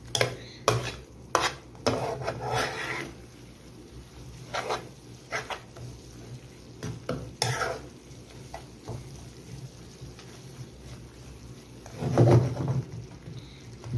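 Liver being stirred with mixed spices in a pan for a Bengali-style liver bhuna, giving scraping, clattering strokes in bursts, some sharp and loud, with quieter rustling in between.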